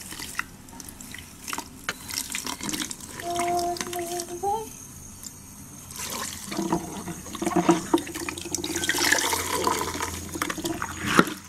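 Tap water runs and splashes while something is rinsed, a steady watery rush with brief swells and knocks, close by and without talk.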